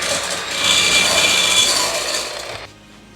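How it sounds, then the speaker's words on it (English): Egg whites whisked briskly in a bowl until white and meringue-like for a coffee cream sponge cake, a loud, close, rapid scratchy whirring that swells and then stops abruptly near the end. "Then with another whisk, you whisk these so they're white, like a meringue."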